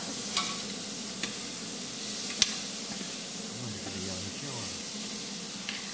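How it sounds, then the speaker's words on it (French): Cabbage stuffing with diced apple being stirred in a pan for Normandy-style stuffed cabbage, giving a soft, continuous sizzle and hiss with a few faint clicks of the spoon, quiet and close. "je mélange un peu"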